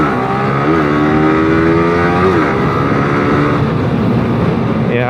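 A 2017 Yamaha R15 motorcycle accelerates hard on a road near Cibubur, its engine note climbing rapidly through the gears with a brief dip at a shift, loud and close with wind noise.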